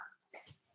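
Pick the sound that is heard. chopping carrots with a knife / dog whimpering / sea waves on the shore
dog whimpering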